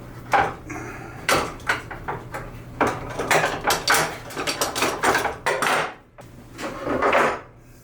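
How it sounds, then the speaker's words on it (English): Clamps being loosened and removed from glued wood leg patch pieces, a close series of irregular knocks, clanks and wooden clatters with short pauses between. "let's take these out of the clamps and see how they came out"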